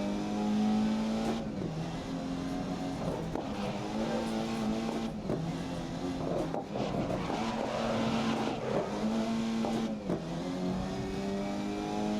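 A race car in the racing game GRID (2019) revs hard and climbs through gears, each upshift dropping the engine pitch before it rises again, loud and continuous with no talking.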